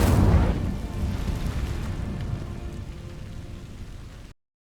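The Incendio fire spell is cast in Hogwarts Legacy, a loud whooshing blast of flame that opens strongly and then fades into a steady crackling roar before cutting off abruptly.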